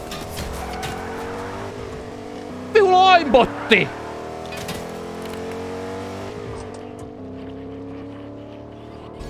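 A car in the video game Fortnite drives along with a steady engine hum, and a brief burst of tire squeal and revving cuts in midway. A voice calls out once over it.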